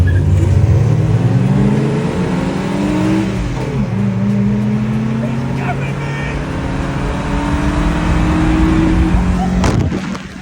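A Toyota Starlet with a 4EFE engine, a 7AFE throttle body and a manual gearbox accelerates hard while racing another car. The engine is loud and close, with rising revs through several gear changes and a sharp burst near the end.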